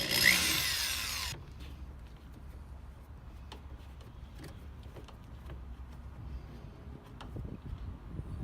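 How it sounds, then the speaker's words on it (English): A power drill boring an 1/8 inch pilot hole up from the bottom of a mud flap on a 2014-2019 GMC during an OEM splash guard install, a brief loud whir at the start, then quiet workshop ambience with faint clicks. "Now I need to drill an 1/8 inch hole up from the bottom"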